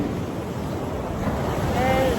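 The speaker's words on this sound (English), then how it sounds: "I know y'all see the waves crashing behind us." Ocean surf washes onto a beach in a continuous broad roar mixed with wind buffeting the microphone, and a voice is briefly heard over it.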